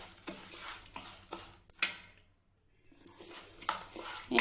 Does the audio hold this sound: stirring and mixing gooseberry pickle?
yes